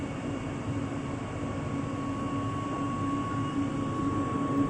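A Jakarta LRT light-rail train pulling away from Velodrome station, a steady low rumble and hum with a sustained tonal whine, heard from inside the car and building slightly toward the end.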